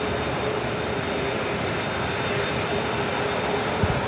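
An Airbus A380 airliner at LAX gives off a steady, even engine hum with a faint high whine, sounding distant and unchanging throughout, with no voices.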